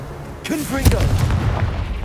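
A Confringo blasting curse goes off in Hogwarts Legacy on hard mode: a voice calls out just before a sharp, loud burst, followed by a rumbling, noisy tail lasting about a second.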